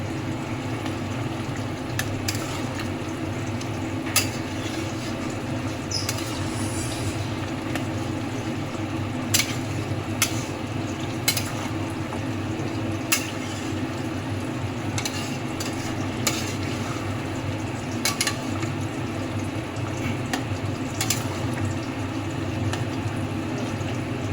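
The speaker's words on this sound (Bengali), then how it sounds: "এই টমেটোটা দিয়ে আরও কিছুটা কষাবো।" Mutton with tomatoes sautéing in a pan for a mild mutton curry: a steady, close sizzle with occasional sharp scrapes and taps from stirring, and no talking.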